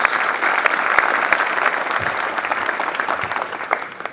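Dense, steady applause from the audience at an LAPD recruit police officer graduation ceremony, with many hands clapping continuously at an even level for the whole stretch and no talking.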